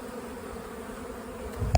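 Honey bees buzz at a pulled hive frame, a steady, moderately close drone that holds evenly and swells briefly near the end.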